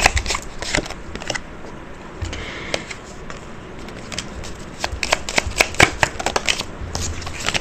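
Tarot cards shuffled by hand, rapid papery riffles and snapping flicks in irregular bursts, close and clear, growing busier toward the end, with no speech.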